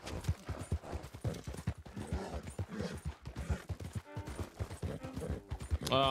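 Rapid, steady clip-clop of galloping horse hooves from Red Dead Online, dense and continuous with a sharp tonal chime near the end.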